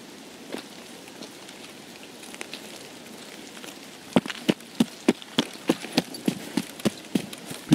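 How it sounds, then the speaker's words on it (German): Rain patters steadily in the video game Escape from Tarkov, a soft continuous hiss. Midway a run of sharp, evenly spaced loud taps begins, like footsteps, and continues over it with no talk. "Wieso regnet es auf meine Waffe?"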